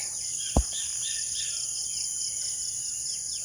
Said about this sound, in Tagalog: Naririnig natin ang huni ng mga ibon, ang mga manok.